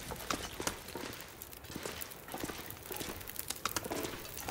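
A horse in the survival video game The Long Dark gives faint, irregular hoof-like clip-clop taps over a soft ambient bed, quiet and somewhat distant.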